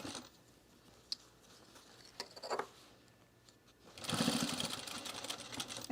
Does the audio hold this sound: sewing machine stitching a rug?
yes